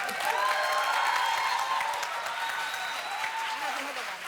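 Audience at a debate on whether AI will kill education clapping in a steady, sustained round of applause from start to finish, with a faint voice over it.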